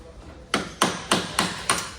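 Five sharp metallic hammer taps on a Land Rover Defender's metal bulkhead in a quick, even rhythm, close by, each ringing briefly before the next strike.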